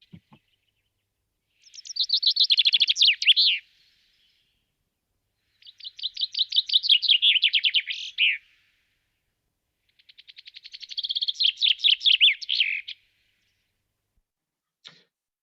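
A chaffinch sings three clear, separate phrases of rapid descending trills that end in a flourish, in a quiet woodland dawn with silent gaps between phrases.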